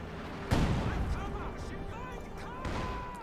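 Artillery bombardment in the real-time strategy game Company of Heroes 2: two heavy booming impacts, one early and one near the end, rumbling under a commentator's continuous talk.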